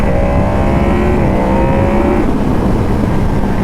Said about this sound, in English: you can hear all the air coming in right here. It sounds like a supercharger whine